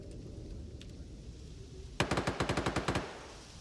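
A PKM machine gun firing in STALKER, a single fast burst of about ten sharp, evenly spaced shots, loud and close after a quiet ambient stretch.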